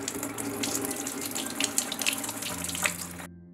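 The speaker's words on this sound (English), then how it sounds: "Fill a medium pot with water and bring it to boil over high heat." Kitchen tap running water into a medium cooking pot, a steady close rushing gush that stops abruptly near the end, no voices.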